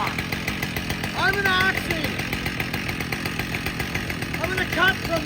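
A long-bar chainsaw cuts into a log at an outdoor Paul Bunyan show, its steady loud buzzing roar continuous throughout, with faint voices and squeaky tonal sounds over it.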